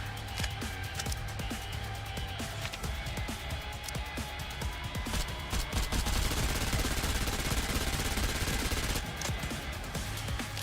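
Sustained machine-gun fire in the game Goddess of Victory: NIKKE, a dense, loud rattle of rapid shots that runs almost without pause, with explosive impacts layered over it.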